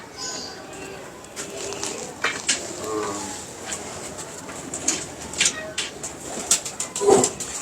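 Pigeons coo at a pigeon keeper's loft, soft repeated calls over a steady background with scattered sharper bird sounds and occasional nearby voices.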